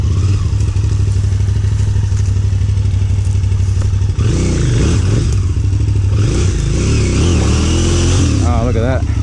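A small trail motorcycle in the Brindabella bush revs and putters past on a dirt trail, its engine note rising and falling with thumps and clatter, while people talk over it.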